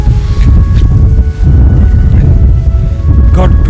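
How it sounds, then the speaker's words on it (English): Strong wind on the Comeragh Mountains in Ireland buffets the microphone in a steady low roar, loud and close, with faint tonal hums mixed underneath. "Got windy as well and a little chilly again."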